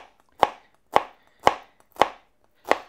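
Five evenly spaced knife chops through an onion on a cutting board, sharp close thuds about half a second apart with quiet gaps between them.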